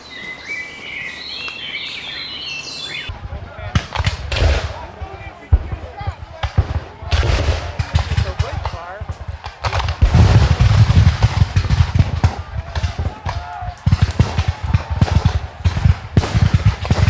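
Muskets fire in a battle reenactment of British troops shooting down on French soldiers at Jumonville Glen. Sharp, irregular cracks and volleys follow one another loudly and densely, with some softer outdoor ambience before the shooting starts.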